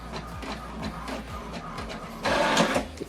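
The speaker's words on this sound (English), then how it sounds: "Now what it's doing now is printing the welcome information that I sent to this printer." An HP Deskjet all-in-one inkjet printer prints a page, its print head carriage sliding back and forth in a regular mechanical rhythm with a whirring hum, swelling into a louder feed noise near the end.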